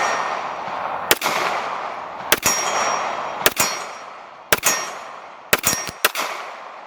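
Bullets from a Magnum Research 1911 Undercover in .45 ACP strike steel targets, giving six sharp metallic clangs in irregular pairs and singles, each with a bright ringing decay under the gunfire.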